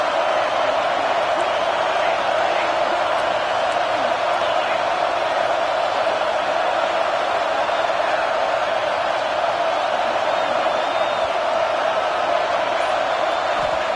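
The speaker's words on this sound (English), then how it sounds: "this crowd is at fever pitch" A football stadium crowd roars without letup on a third down in the red zone during a Washington vs Arkansas game, a constant, loud wash of noise.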